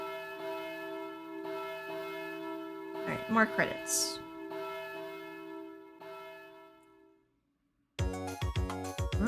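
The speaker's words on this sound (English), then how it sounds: "Those the wedding bells." Wedding bells in the Harvest Moon DS Cute video game ring in sustained, chiming tones that fade out, while a person briefly talks over them before a new melody begins.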